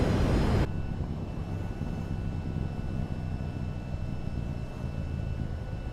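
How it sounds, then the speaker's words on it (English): A jet aircraft in the VTOL VR flight game taxis toward the runway with a steady, loud engine roar and a low rumble, with faint thin whining tones above it, constant after a brief louder burst at the start. "Taxiing out to the runway."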